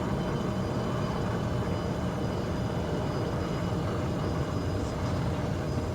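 Jet thrust reversers roar during landing rollout in a home-cockpit flight simulator, a steady, dense, loud broadband rumble that holds evenly throughout with no talk.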